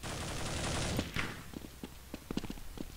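Gunfire in Counter-Strike 1.6 on de_tuscan: a dense burst of automatic fire, then scattered sharp single shots and footsteps, fairly quiet overall with no talking.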